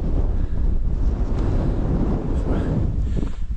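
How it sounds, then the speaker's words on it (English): Strong wind buffets the microphone on a hilltop at Arthur's Seat in Edinburgh, a loud, steady roar with gusty swells throughout. "it's very windy up here"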